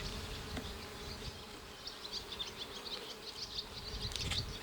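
Honeybees buzzing around an open hive during frame inspection, a soft steady drone with individual bees whirring closer now and then, fairly quiet throughout.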